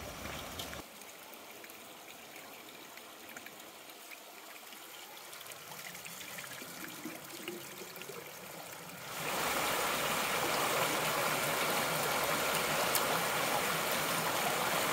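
Water from a mineral spring in Georgia flows quietly and continuously, then swells into a louder, fuller rushing stream from about midway, with no talk.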